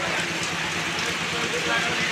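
Heavy rain pours steadily over Chandipur market in Jhenaidah Sadar, a dense, even hiss without pauses.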